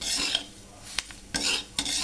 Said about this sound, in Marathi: मी कांदा मिरची कढीपत्ता जिरे मोहरीची फोडणी देऊन हे सगळं त्यातच भाजायला लागलं एकत्रच